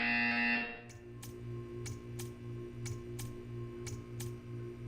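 A video game buzzer sounds, a loud electronic tone in the first second cutting off into a steady low hum with a faint, regular ticking pulse repeating about twice a second.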